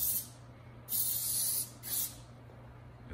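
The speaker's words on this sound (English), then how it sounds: "taking the spray glue" Two close bursts of hissing from an aerosol can of spray glue, the first longer than the second, over a low steady background hum.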